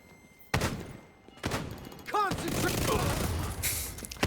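Sharp bursts from a flashbang grenade in a video game, loud and close, with a whistling ring after the second blast over a continuing wash of game noise.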